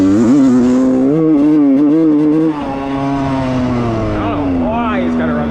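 A 1995 Suzuki RM125 two-stroke dirt bike engine revs up close, its buzzy note wavering and climbing unevenly, dropping briefly before picking up again with rough rising and falling revs.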